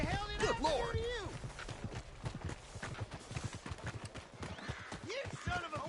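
Horse hooves clip-clopping and a horse whinnying in the video game Red Dead Redemption 2, close and fairly loud, with the whinny rising early and again near the end over steady hoofbeats and game ambience, with talk mixed in.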